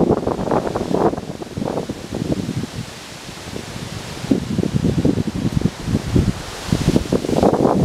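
Strong, cold wind on a mountain at Peaks of Otter roars steadily into the microphone in loud, uneven gusts and buffeting surges, with no voices.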